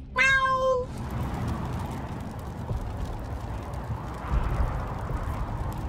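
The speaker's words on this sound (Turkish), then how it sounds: "Kedicik geldi. Kedicik bizle." A cat in the video game Wasteland 3 gives a single clear meow at the start, followed by steady game ambience and low rumbling noise.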